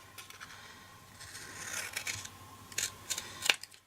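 Scissors snipping a folded paper label for a pentagonal champagne box: soft, close scraping and cutting strokes building over a few seconds, ending in a couple of sharper snips, quiet and alone.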